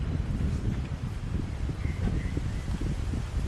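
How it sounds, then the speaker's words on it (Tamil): Wind blows steadily across a hilltop at the Agathiyar temple in Tenkasi district, a constant broad rushing gust buffeting the microphone with faint rustling, no voices. "இந்த காற்று அதுவும் அவ்வளோ ரம்மியமாக இருக்குது."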